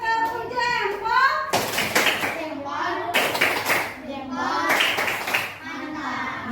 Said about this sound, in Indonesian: Kita berikan tepuk jempol.